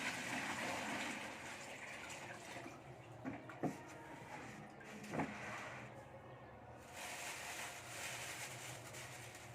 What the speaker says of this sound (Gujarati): પહેલા બકેટમાં પાણી લઈ લઈશું।